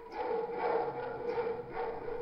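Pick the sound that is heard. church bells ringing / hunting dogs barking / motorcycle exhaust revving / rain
hunting dogs barking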